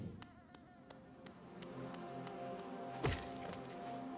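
Bees buzzing in the Hollow Knight video game, a faint droning hum with light rhythmic ticks and a single soft thump midway, quiet throughout.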